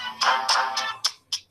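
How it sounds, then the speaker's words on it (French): A phone ringtone plays an incoming call melody in a bright, close run of about five quick chiming notes with short gaps, clear and alone. "Désolé pour le coup de téléphone."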